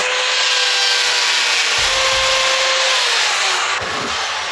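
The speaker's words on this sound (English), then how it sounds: "So I'll just pick up my hand drill and glue it out." Hand drill boring a clean hole, close and loud, a steady broadband grinding with a faint whine and a brief rubbing change near the end, no talk.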